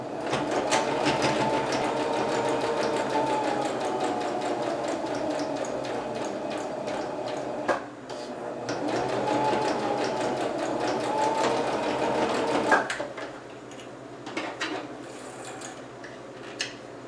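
A sewing machine stitching the thumb seam of a fabric mitten runs steadily and close by for about twelve seconds. It slows briefly once, then stops, and a few faint clicks of handling follow.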